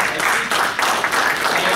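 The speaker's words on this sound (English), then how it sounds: "can we have a round of applause for Senator Matt Walsh over here?" An audience at a student government senate meeting claps for a senator, giving a brief, dense burst of steady applause that fills the room at a fairly loud level throughout.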